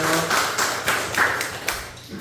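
A church congregation claps briefly during a Sunday service, a short patter of several distinct claps rather than sustained applause, close and moderately loud with faint talk around it.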